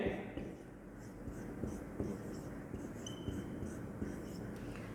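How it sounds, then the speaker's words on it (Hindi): Marker or chalk scratching on a board during a maths lesson on number systems, steady short strokes and taps at close range with a faint hum underneath. "हम 4 ऑप्शन भी लिख दे रहे हैं"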